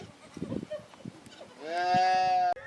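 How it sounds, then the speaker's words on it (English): Goats and sheep come into a thorn-bush boma at night at a camp in Kenya, with soft footsteps and shuffling followed by a long, loud nearby bleat, then a quieter second call. "It was interesting to watch the goats and sheep come in for the night."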